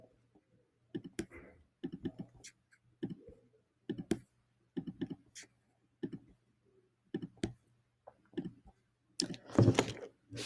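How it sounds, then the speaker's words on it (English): Computer mouse clicking to select words in a Google Docs document, crisp double clicks in short bursts repeating every second or so, near and fairly loud, with no speech. "Click twice to select the word and each word make a different color."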